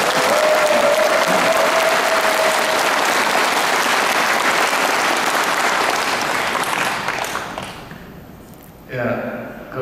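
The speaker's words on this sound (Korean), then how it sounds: "감사와 동경의 박수 한 번." Congregation at a Catholic Ultreya Mass in the Jinju district applauding a priest, a dense sustained burst of many hands that fades near the end, with a brief sound afterward.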